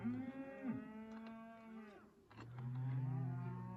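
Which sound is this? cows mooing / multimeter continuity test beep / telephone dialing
cows mooing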